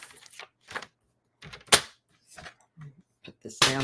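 Cardstock being cut to 2 1/4 by 5 inches for a handmade Christmas card, heard as a few crisp, separate snips and clicks between pauses, with a voice talking over part of it.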